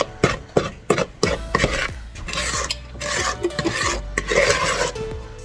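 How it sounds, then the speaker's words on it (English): A flour mixture is gradually stirred into molasses ginger cookie dough in a bowl, with scraping, thudding strokes of a utensil against the bowl, close and fairly loud, no talking. "Now we're gradually going to stir in the flour mixture"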